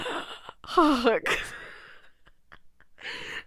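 A voice imitates heavy breathing with drawn-out sighing gasps, followed by a few soft breathy sounds and a brief vocal sound at the end.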